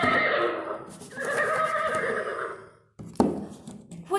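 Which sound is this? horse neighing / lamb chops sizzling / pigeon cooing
horse neighing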